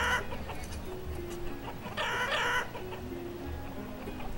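Chickens cluck steadily in the farm-building game Banished, with a brief louder squawk midway, all fairly faint against a constant low background hum and no speech.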